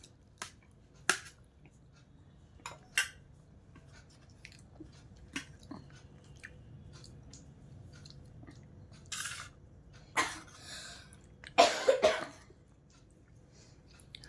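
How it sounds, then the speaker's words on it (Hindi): A few scattered coughs and throat-clearing bursts break a quiet background, with two louder coughs clustered near the end. "मेरी खांसी भी हो गई"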